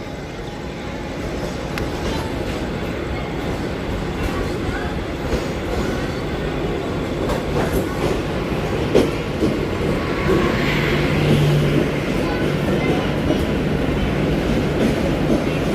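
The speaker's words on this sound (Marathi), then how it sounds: "मित्रांनो हे बघा आपली Vashi AC slow local arrive करत आहे" A 12-car Vashi AC slow local on Mumbai's Harbour Line arriving at Chhatrapati Shivaji Maharaj Terminus, with steady loud rumbling and rhythmic wheel clatter on the rails, plus a brief squeal, building gradually.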